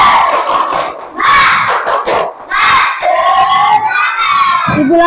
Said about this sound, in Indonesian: Coba kita tepuk semangat dulu ya, biar lebih semangat.